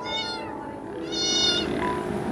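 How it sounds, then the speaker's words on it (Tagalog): A cat meows twice in quick succession, clear and close, each call drawn out and rising, with faint household background and no talk. "Ang pusa umingi."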